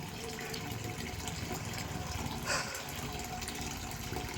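Water from a village supply tap running and filling a container, a steady faint gushing rush with a brief louder splash partway through, no voices.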